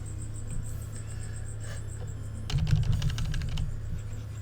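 Quick run of clacking keystrokes on a mechanical computer keyboard, close and fairly loud, arriving after a calm stretch of low hum and lasting about a second before stopping, with no one talking.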